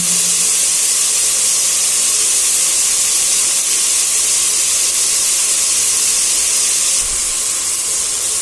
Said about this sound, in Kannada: ಈಗ ಮಟನ್ ಆಯಿಲಲ್ಲಿ ಚೆನ್ನಾಗಿ ಫ್ರೈ ಆಗಿದೆ.